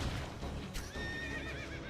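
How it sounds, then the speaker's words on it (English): Horses neigh and whinny with hooves clattering in Fate/Grand Order combat, a loud, dense game mix with one sharp whinny rising partway through over continuous battle noise. "Bro got stomped by the horses"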